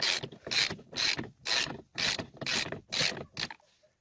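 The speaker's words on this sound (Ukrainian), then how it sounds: "Наступним кроком ми беремо вороток з головкою на 22 через подовжувач і відкручуємо центральну гайку." Ratchet wrench with a 22 mm socket on an extension loosening the central steering wheel nut of a Daewoo Lanos: seven loud, evenly spaced ratcheting bursts close by, then stillness.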